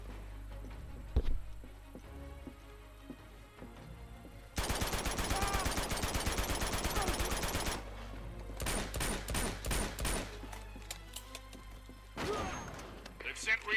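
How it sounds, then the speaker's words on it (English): Bursts of gunfire in the action video game Uncharted: Drake's Fortune: a sustained automatic-fire volley, then scattered rapid shots and single cracks over a steady game ambience. "I thought someone was shooting me."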